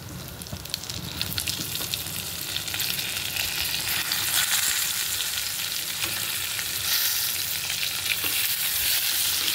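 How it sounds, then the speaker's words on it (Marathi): Brinjal fries in hot oil with turmeric, asafoetida and red chilli powder, a loud dense sizzle that runs throughout. Spatula scrapes and stirring sounds in the pan break through it, and no voices are heard. "छानपैकी आपल्याला तेलामध्ये ही वांगी परतून घ्यायची, मऊसर होईपर्यंत आपल्याला वांगी तेलात परतायची"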